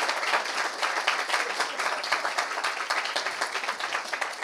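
A stand-up comedy crowd applauds at the end of a show with dense, sustained clapping that stays loud and steady throughout, with no talking.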